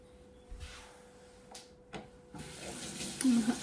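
Tap water runs into a kitchen sink during hand washing, starting with brief splashes and building to a steady, nearby stream toward the end.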